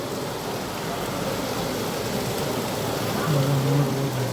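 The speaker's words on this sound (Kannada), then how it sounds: "ನೋಡ್ಬೋದು ಈ ಥರ ಎಷ್ಟು ಜೋರಾಗಿ ಬರ್ತದೆ ಮಳೆ ಅಂತ ನೋಡಿ" Heavy rain pours down steadily in a dense, continuous hiss of drops hitting surfaces, fairly loud and unbroken, with a low hum rising briefly near the end.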